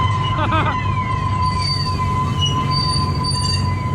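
Train wheels squeal loudly against the rails in long, high-pitched screeches over a steady low rumble of a moving carriage, at Blackpool Pleasure Beach.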